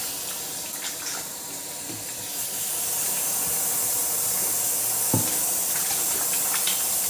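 Water runs steadily from a kitchen tap while rice is washed, a constant close hiss and spray that grows slightly louder partway through, broken by a few soft knocks and splashes of handling in the sink.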